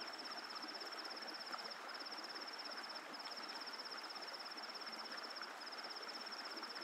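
Crickets chirp at dusk along the Silk Route in East Sikkim, a steady high pulsing trill with brief pauses over a soft, continuous wash from the nearby Rishikhola river.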